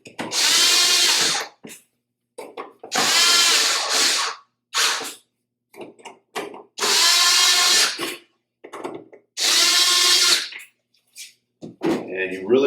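A power drill drives screws back into a Nutone LS100 range hood blower during repair, running in four loud bursts of about a second and a half each, with short clicks and handling noises between them.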